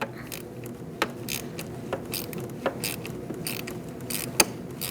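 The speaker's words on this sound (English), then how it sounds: "We're going to use a 10mm socket, and we're going to take off our negative battery terminal." A ratchet with a 10mm socket loosening the negative battery terminal nut on a 2008-2014 Mercedes-Benz C300 3.0L V6, heard as steady rapid clicking with occasional sharper metallic ticks, close and alone.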